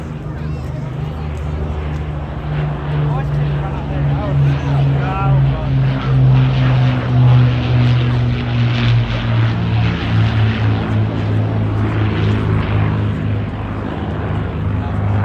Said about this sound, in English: That sound is unmistakable of those Merlin engines that power these aircraft